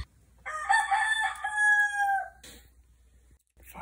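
A wild rooster crows once, a clear, loud drawn-out call lasting about two seconds against a quiet background, followed by a brief softer sound.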